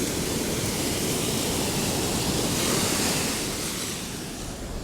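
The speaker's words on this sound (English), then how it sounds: "Listen to it when the water hits the coil." Beach surf washes in over the coil of an XP Deus II metal detector, a loud, close, broad hiss of churning water that swells briefly and then eases off slightly, with no voices.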